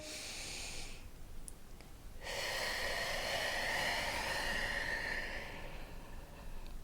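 A steady breath exhaled during a Pilates push-up, a long airy rush of air that swells after a short pause and holds strong for several seconds, close and alone.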